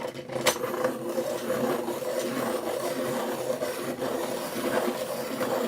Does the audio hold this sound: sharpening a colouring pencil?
yes